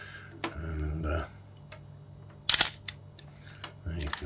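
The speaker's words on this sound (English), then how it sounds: "you can see the shutter action." An Olympus OM-1 mechanical film camera fires its shutter at a slow speed, giving a soft double click with a short gap between opening and closing, heard close up among quiet talk.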